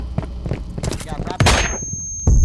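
Flashbang grenade bursting in the Firewall Zero Hour video game: a sudden loud broadband blast followed by a steady high-pitched ringing tone that lingers, then another loud burst at the end.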